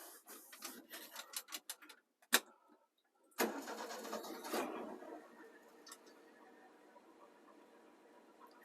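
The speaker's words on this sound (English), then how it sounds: "Fires right up and sounds great." Clicking and ticking, then a pause before the old engine of a 1975 Ford F600 truck cranks and fires, running rough at first and then settling into a quieter idle.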